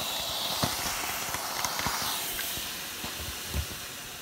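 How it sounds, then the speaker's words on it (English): A steam iron blows a steady, breathy hiss over a crochet Valentine's Day heart doily pinned to cardboard. Faint soft thuds and bumps come through beneath the continuous close hiss, which fades slightly toward the end. "So take my iron and on the steam."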